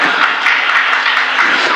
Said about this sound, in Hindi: फिर भी बज रही ताली